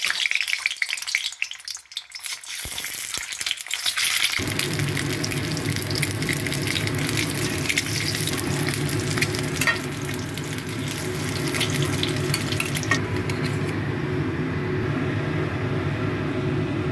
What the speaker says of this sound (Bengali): ডিমটাকে হালকা হালকা লাল করে ভেজে নিচ্ছি।